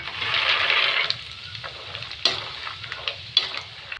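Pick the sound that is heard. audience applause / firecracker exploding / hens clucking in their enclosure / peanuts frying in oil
peanuts frying in oil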